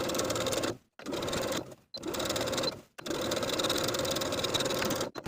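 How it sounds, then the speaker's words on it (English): Short, close bursts from a sewing machine understitching bias tape to its seam allowance, broken by quick stops between runs, with no one speaking. "Then we're going to understitch, sewing that bias tape to its seam allowance underneath with 1/8 of an inch seam allowance"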